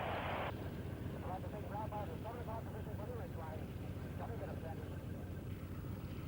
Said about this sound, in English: Now the plane is swinging around. Now I think he's ready to go. He's giving her the gun.